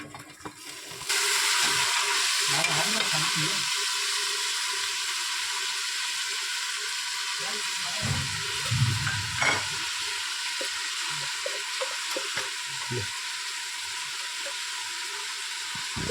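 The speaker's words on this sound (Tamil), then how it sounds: "இப்போ நம்ம தக்காளியை வெட்டி வச்சுருக்க தக்காளியை போட போகிறோம்." Chopped tomatoes drop into a hot pan and burst into a sizzle about a second in. The frying then holds at a steady hiss, with occasional stirring scrapes and clatters.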